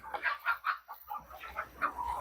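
Native country chickens, roosters and hens, clucking nearby in a large coop on a farm, a quick, uneven series of short calls, fairly soft and close.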